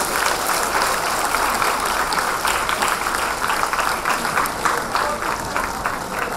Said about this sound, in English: Those on the balcony, please give them a round of applause.